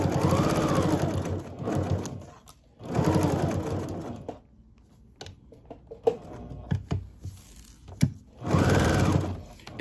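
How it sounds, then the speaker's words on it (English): A sewing machine stitches a square onto a placemat in three bursts of rapid, close whirring, with quiet clicks and handling taps in the pauses between them. "I'm just sewing on a square here."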